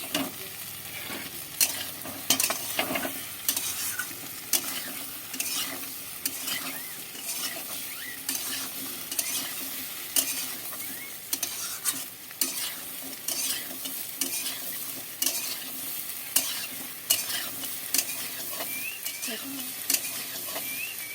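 Lentil fritters (dal bora) sautéing in a spice masala in a pan: a steady soft sizzle with repeated scraping, clattering stir strokes throughout, fairly close and moderately loud.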